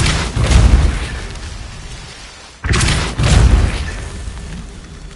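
Depulso force spell cast in Hogwarts Legacy, two loud booming blasts with rumbling decay, the second striking midway after a brief near-silent gap.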